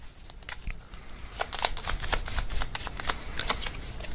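A deck of oracle cards is shuffled by hand in quick riffling bursts, crisp papery flutters repeating close to the listener at an uneven rhythm, with no voices over them.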